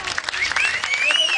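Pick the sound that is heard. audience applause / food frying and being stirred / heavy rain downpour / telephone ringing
audience applause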